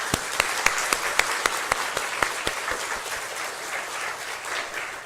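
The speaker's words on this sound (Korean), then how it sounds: "감사와 영광의 박수를 올려드리겠습니다" Church congregation applauding on Christmas Day, starting with sharp, closely miked individual claps over a crowd wash, then settling into a softer, even sustained applause.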